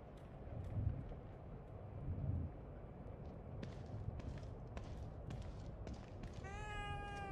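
A cat meows in The Evil Within 2 video game, with a clear drawn-out mew near the end over a low, breathy ambient background and no talk.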